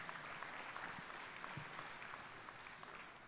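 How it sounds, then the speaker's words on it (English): Applause from a crowd at a college commencement ceremony, a steady, fairly faint wash of clapping heard alone for a few seconds. "Let's give them both a round of applause."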